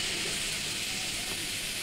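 Potatoes frying in a pan give off a steady, close sizzling hiss that holds evenly throughout without pause, heard alone with no talking.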